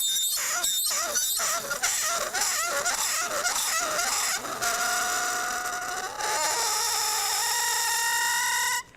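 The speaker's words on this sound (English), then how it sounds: "Cold enough to make copper scream." A shrill, wavering metallic squeal as copper is pressed against dry ice, with rising and falling pitch, loud and continuous, shifting into a steadier high whine toward the end.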